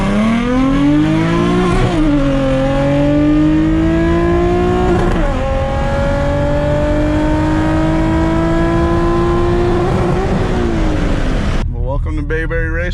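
A tuned Nissan 350Z HR pulls hard in a roll race, heard loud from inside the car. The engine note rises through the gears with shift breaks between them, then cuts off abruptly near the end.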